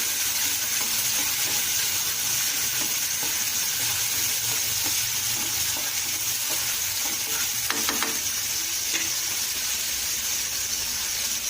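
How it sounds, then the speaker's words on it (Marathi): Chopped onion sizzles steadily as it is sautéed in a pan, a loud continuous frying hiss with a few brief stirring scrapes near the middle, no voices. "कांदा तर छान परतला गेलाय"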